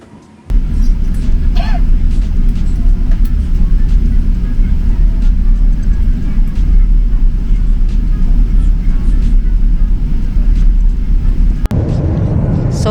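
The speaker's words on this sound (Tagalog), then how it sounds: "nandito na kami sa may eroplano" Steady low cabin drone inside an Emirates airliner fills the clip, a constant engine and air-conditioning rumble with faint clicks and rustles, ending in a brief sharp knock and a shift in tone.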